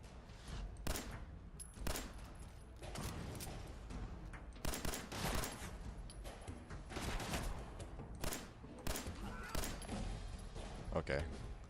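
Repeated bursts of gunfire from a firefight against enemies in Fallout 4, loud and steady across the whole stretch, with a voice talking over the shots.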